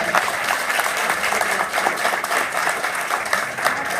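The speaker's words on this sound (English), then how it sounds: "let's give them a round of applause." An audience at a community event in a Minneapolis company venue applauds a panel, steady dense clapping filling the room from start to finish.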